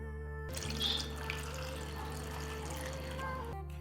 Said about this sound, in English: I will pour water over the strawberries.